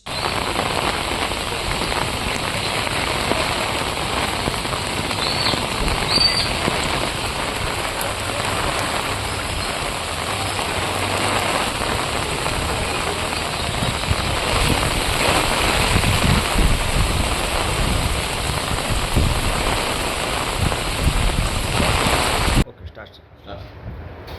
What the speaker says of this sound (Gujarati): આજે સવારે ચાર વાગ્યાથી વહેલા ભરૂચ જિલ્લામાં ખૂબ જ હેવી રેઇન જોવા મળ્યો